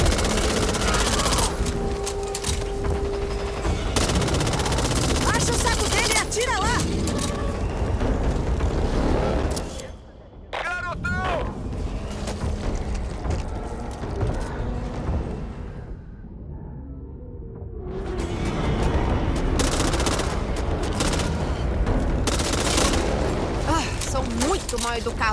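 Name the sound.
gunfire in the video game Back 4 Blood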